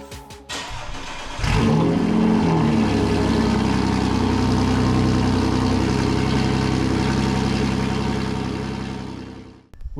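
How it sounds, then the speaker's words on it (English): A car engine, just rebuilt, catches after a short crank, then roars loud and close as it revs and settles into a steady run before cutting off. "we were all set to start the car for the first time"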